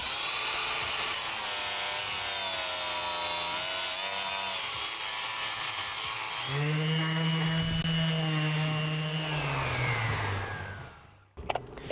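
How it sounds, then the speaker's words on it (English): Power sander working around newly fitted wooden stair treads, a loud continuous whine that shifts pitch as pressure changes, then winds down near the end. "I'm gonna sand around."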